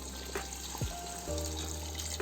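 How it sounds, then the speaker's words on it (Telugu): Hot water poured into a cooking pot for chicken biryani rice, a steady close splashing stream that shifts pitch partway through as the pot fills, with no talk. "హాట్ వాటర్ పోస్తున్నాను"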